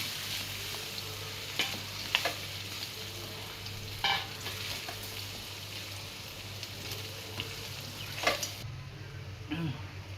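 Crispy potato balls deep-fry in hot oil with a constant close sizzle, punctuated by occasional clinks and stirring scrapes.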